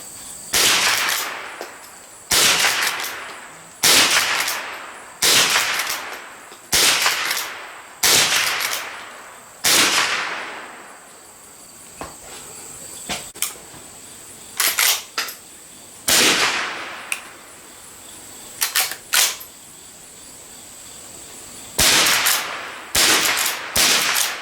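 A Marlin 1897 Cowboy lever-action rifle in .22 Long Rifle fires loud, snappy shots outdoors, a fairly even string of about a dozen followed by a sparser cluster, with faint lever clicks in the gaps.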